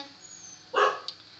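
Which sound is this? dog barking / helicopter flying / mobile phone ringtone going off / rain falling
dog barking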